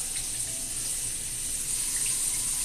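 A kitchen tap runs steadily with water that is not hot, a constant bright hiss of flowing water without pauses, moderately loud and close, with no speech.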